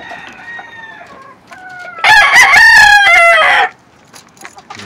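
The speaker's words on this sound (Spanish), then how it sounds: "Y aquí está el gallo." A rooster crows loudly and close by in one long call, preceded by softer clucking from chickens.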